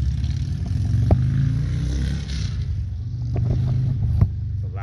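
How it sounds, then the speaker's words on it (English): Loud motorcycles pass nearby in a parking area, a deep rumbling engine roar swelling and fading over several seconds with a couple of sharp clattering knocks. "Loud motorcycles."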